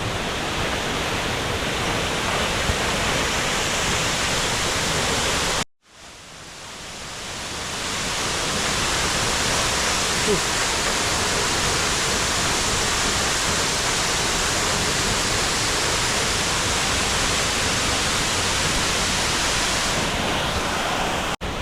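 A steady, loud roar of falling water fills the whole stretch, briefly cutting out once before surging back to full, constant rushing.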